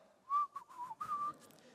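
A person whistles a short melodic tune of several quick rising and falling notes, close and clear, with no talk over it.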